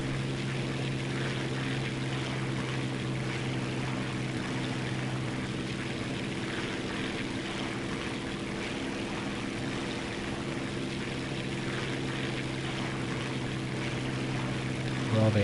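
A propeller aircraft engine in War Thunder drones steadily at a constant pitch, a continuous hum-and-whirr that holds even and moderately loud throughout without change.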